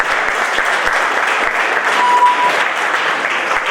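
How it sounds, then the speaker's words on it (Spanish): Audience at a youth training talk breaks into loud, close applause, a dense burst of clapping that holds steady throughout with no talking over it. "Aplausos para Gabriel."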